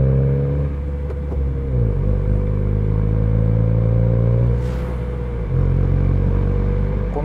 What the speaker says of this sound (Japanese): 低速ギアチェンジ